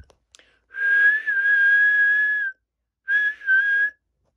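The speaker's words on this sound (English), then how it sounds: "Edward tooted his whistle and chuffed off." A clear steady whistle sounds twice, first a long toot of nearly two seconds, then a shorter double toot, in otherwise quiet surroundings.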